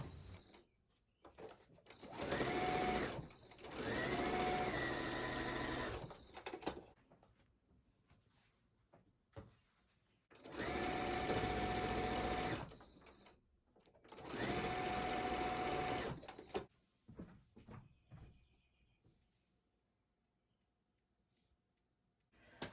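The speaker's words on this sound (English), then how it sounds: "now I'm just going to sew those columns together to complete the block" A sewing machine stitches quilt block columns together for a scrappy Irish Chain quilt, running in several loud bursts of a few seconds each with quiet pauses between, close and alone.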